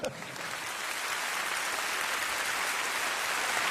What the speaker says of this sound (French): Applaudissez Isabelle Giordano.